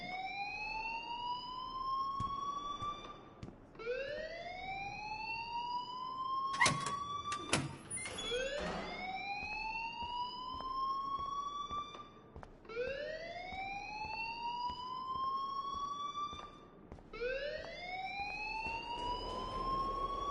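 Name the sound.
alarm ringing in a video game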